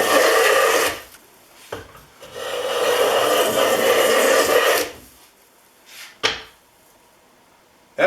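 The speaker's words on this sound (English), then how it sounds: "I was taking off shavings that were way too thick for normal planing." A Stanley No. 5 hand plane with a cracked throat takes thick shavings off walnut in long, loud, rasping strokes, one short and one sustained, then a brief final pass close by.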